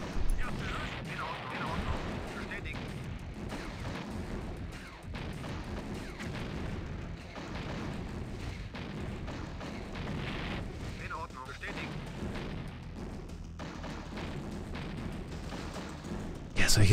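Defence towers in Command & Conquer: Red Alert keep firing in a dense, continuous wash of booms and artillery blasts that stays loud throughout, with voices talking underneath.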